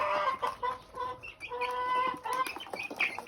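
A local farm chicken clucks repeatedly in short, close bursts while drinking water, the calls uneven and animated with brief pauses between them.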